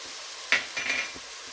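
Minced garlic dropped into a pot of vegetables for a chicken and bacon stew, giving a sharp burst of sizzle followed by softer frying crackle and a faint clink of stirring.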